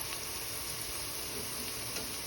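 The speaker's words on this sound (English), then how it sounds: "the oil has warmed up and I've gone in straight with the garlic and the onion" Garlic and onion sizzle in hot oil in a pan, a steady close hiss and crackle of frying that holds without pause and with no voices.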